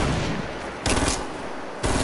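Bursts of automatic drum gun fire in Fortnite Season 5, two loud broadband volleys separated by shorter rattling shots, close and harsh with no talk over them.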